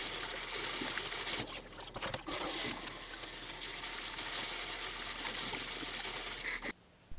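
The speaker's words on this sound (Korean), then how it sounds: "삶은 게두릅을 바로 찬물에 넣어 헹굽니다" Blanched fatsia shoots rinsed in cold water, a continuous close trickle and splash of running water with brief handling noises, ending abruptly near the close.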